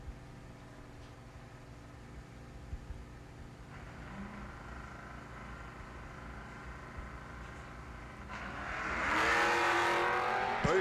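Drag racing cars, a red Camaro and a Mustang, rumble low and steady at the strip before engines roar louder near the end as they launch down the track.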